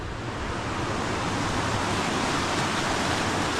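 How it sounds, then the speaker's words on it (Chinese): Water from a small mountain waterfall pours beneath a concrete-slab bridge, a steady, loud, unbroken rushing roar with no voices. "这个水就从这里流下去，我们看一下"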